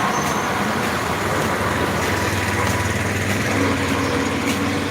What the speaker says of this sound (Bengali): এই রাস্তাটা দেখি এখনই অনেক যানবাহন চলে আসছে